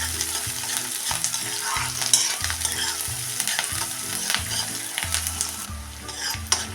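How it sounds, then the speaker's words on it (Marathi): Onion sautés in a pan with a steady close sizzle, while a spoon scrapes and stirs in regular strokes throughout, and no one speaks. "कांदा पण असा थोडा वेळ मऊ पडेपर्यंतच फक्त परतून घ्यायचं आहे"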